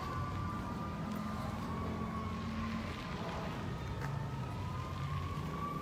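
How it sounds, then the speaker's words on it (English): Emergency vehicle sirens wail at a large fire on University Ave in Midway, Saint Paul: a steady, fairly distant tone rises and falls over a constant wash of outdoor noise. "I don't know if you guys can hear all those sirens"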